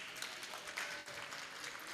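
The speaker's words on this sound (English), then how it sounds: "please give them a round of applause" Applause from an audience at a Triple O interactive art game event, a steady, dense wash of many hands clapping that holds evenly for the whole stretch with a brief dip near the middle.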